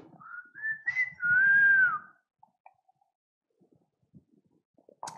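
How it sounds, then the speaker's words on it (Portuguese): A short, wavering whistled melody rises and slides for about two seconds, then gives way to near silence with a few faint clicks. "Ah, assobiar um pouquinho, professor?"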